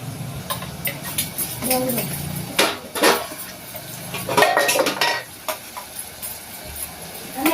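Pots and dishes are scrubbed and washed by hand in a home kitchen while curry cooks, with irregular metallic clanks and scrapes of steel vessels close by, some louder knocks, and a brief voice in between.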